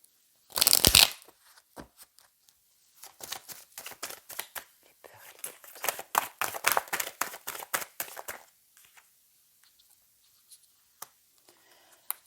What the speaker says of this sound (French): Ok, donc je vais reprendre certaines cartes